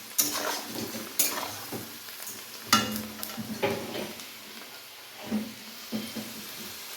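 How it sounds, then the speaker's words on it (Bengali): Bitter gourd, potato and ash gourd peel sizzle steadily in a pan with a broadband hiss, broken by repeated scraping and clattering stirs from a utensil, close by, no talking. "এখানে অনেক কিছু মিক্স করে ভাজা হচ্ছে"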